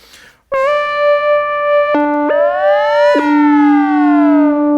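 A bright Robkoo Qithesizer synthesizer tone holds, then its pitch slides down in several steps, with some overtones gliding at different rates, loud and without speech.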